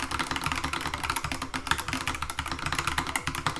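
Rapid typing on a Skyloong GK75 mechanical keyboard with a split spacebar, dense clattery keystrokes close up and continuous throughout, with a low background hum underneath.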